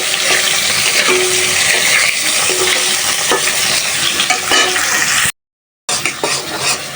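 Fresh taki fish fry lightly in a pan with hot oil, a loud, steady sizzle and crackle running throughout, broken by a brief silent gap near the end before the frying resumes.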